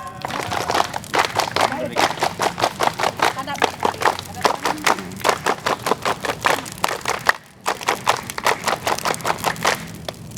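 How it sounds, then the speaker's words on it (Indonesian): A group of scouts at a national jamboree reunion claps in a rapid, steady rhythm of sharp, loud claps, pausing briefly partway through before the clapping resumes. "Tiga kali tepuk pramuka."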